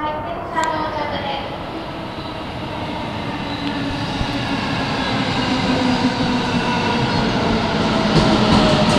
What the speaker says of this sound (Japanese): 電車到着です。